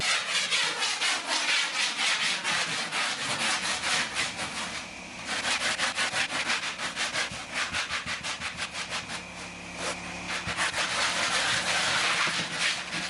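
Steady back-and-forth rasping of sandpaper on an MDF sanding block, fast rhythmic strokes continuing throughout, close and loud, with a brief pause partway.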